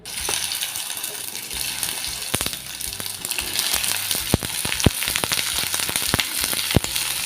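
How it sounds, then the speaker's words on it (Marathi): Sliced okra sautéing in oil in a pan gives a steady, close sizzle and frying hiss, with sharp clicks and taps from a spoon or spatula scattered throughout. No one speaks. "आता ह्या मी जे भेंडे कापलेले आहेत ते आपण थोडे थोडे घालून परतून घेऊया"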